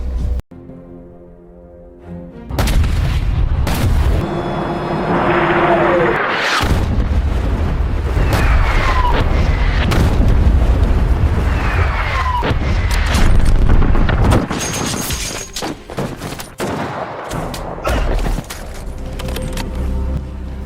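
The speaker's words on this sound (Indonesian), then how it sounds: "Komandan Faisal pun menghubungi tank tempur mereka agar melepaskan tembakan ke titik koordinat yang ia berikan." Heavy booms and blasts of tank cannon fire erupt repeatedly, close and loud, with rumbling aftershocks and scattered bangs like cannon fire and explosions.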